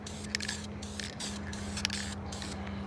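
Dupli-Color engine enamel sprays in light misting coats onto a 1MZ-FE valve cover, heard as several short, soft aerosol hisses in quick succession over a low steady hum, close but quiet.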